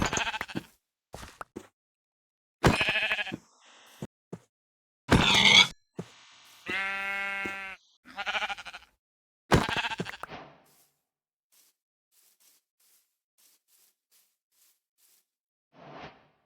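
Several Minecraft sheep bleats ring out in short bursts separated by silences, one long wavering bleat in the middle, with no talking.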